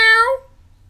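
A house cat lets out a single close, clear meow that trails off and fades into quiet room tone.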